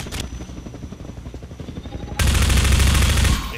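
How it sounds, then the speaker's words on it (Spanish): Machine gun fire in the Half-Life 2 video game, rapid rattling bursts that swell into a loud, dense stream of shots near the end before cutting off. "Mientras podamos usar la ametralladora."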